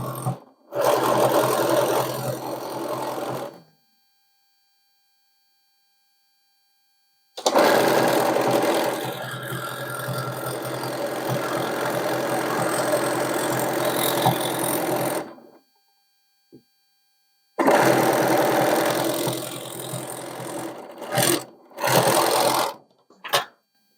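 A sewing machine stitches the sleeves of a sherpa-lined coat in three long steady runs with silent pauses between, the last run breaking into short stop-start bursts, close and clear.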